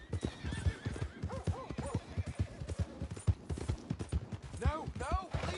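In Red Dead Redemption 2, a horse gallops with steady rhythmic hoofbeats and lets out several loud neighs, close and prominent, while voices shout over the action.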